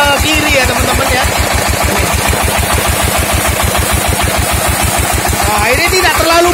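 A Kawamoto 24 HP single-cylinder diesel engine drives a six-inch water pump, chugging in a fast, even, loud knock close by, steady throughout.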